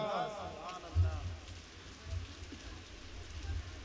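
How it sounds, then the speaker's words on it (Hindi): Rain falls at an outdoor religious gathering, a soft continuous patter with a few duller low thumps, heard beneath a faint crowd and speaker ambience. "और बारिश शुरू हो गई।"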